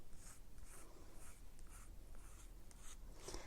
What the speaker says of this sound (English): And to create the body, I'm going to draw around the shell shape.